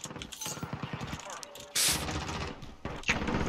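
SKS rifle fire in the Modern Warfare video game, with several sharp shots and bursts scattered among game effects, heard under and between people talking.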